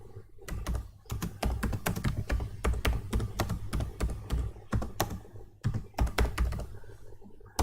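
Rapid keystrokes on a computer keyboard, typed while testing a Google Assistant action, come as a dense run of close, crisp clicks with a couple of brief pauses and no talking.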